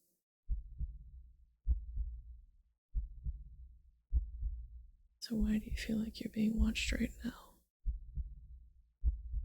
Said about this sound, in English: You feel your heartbeat start to race.